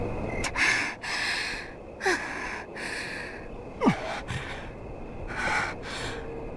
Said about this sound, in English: The sound of our panting is the only noise that echoes through the alley.